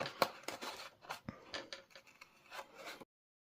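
Scissors cut through a layer of paper card for a three-layer flower, giving a quick series of quiet, close, crisp snips in an uneven rhythm.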